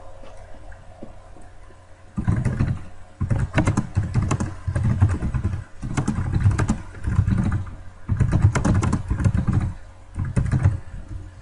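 Bursts of fast keystrokes clatter on a computer keyboard as a description is typed. The key presses come close and clear in several runs separated by short pauses.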